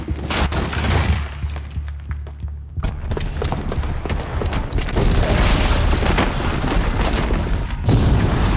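A booby-trapped bomb going off in Horizon Zero Dawn, with dense, loud rumbling blasts and crashing debris that keep surging for several seconds as one sustained explosive roar.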